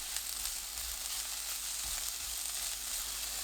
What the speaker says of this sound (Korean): 예열한 팬에 올리브유 1큰술, 꽈리고추, 다진 마늘 반큰술 넣고 중불로 볶습니다.